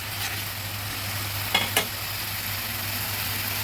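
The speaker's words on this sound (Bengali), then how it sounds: "পেঁয়াজটা কিছুটা ভাজা হয়ে এসেছে" Onions frying steadily in a pan for tengra fish curry, a continuous soft sizzle with two brief stirring scrapes partway through, no talking.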